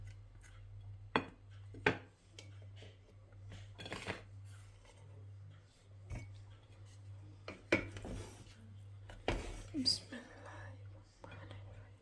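Mutton yakhni pulao is served out with metal utensils, and meat pieces are added to the plate. Scattered clinks and scrapes of spoon against pot sit over a steady low hum, with soft talk and whispering in between.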